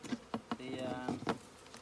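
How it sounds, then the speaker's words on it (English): A honeybee swarm being settled into a small homemade nucleus hive gives off a faint, close buzzing drone broken by a few light taps and knocks of handling. "Could be a prime swarm, who knows."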